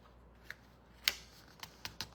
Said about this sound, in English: I'm going to take these and I'm going to fold them in half